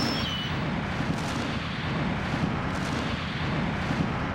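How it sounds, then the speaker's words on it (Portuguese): Rock-blasting explosions for the new Panama Canal expansion rumble as a steady, dense roar of deep booms that continues without a break. "Também serão necessárias explosões"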